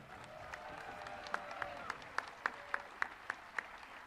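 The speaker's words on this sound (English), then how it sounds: "Keep those applause going" An audience applauds a municipal band at a live concert, with steady clapping from a sizeable crowd and louder individual claps standing out near the microphone.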